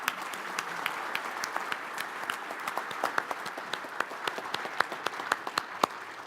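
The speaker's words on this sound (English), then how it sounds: "Let's have a round of applause for our panel." An audience at the Northern Corn and Soybean Expo in Fargo applauds a marketing panel, sustained steady clapping across the room with a few louder individual claps standing out near the end.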